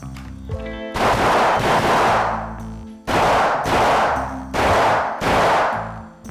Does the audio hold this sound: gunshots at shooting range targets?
yes